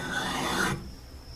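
A Tandy Craft metal slot punch rubbed against a sharpening stone, a harsh close rasping scrape lasting under a second before stopping abruptly into quiet.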